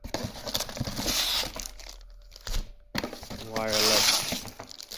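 Plastic packaging crinkles and tears as a wireless plastic keyboard and mouse are unwrapped one-handed from the box of a Lenovo IdeaCentre AIO 27-inch all-in-one, in close bursts with a short pause midway.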